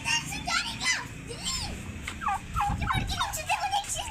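A turkey gobbles angrily in repeated rising and falling bursts close by, with children's voices and chatter mixed in throughout.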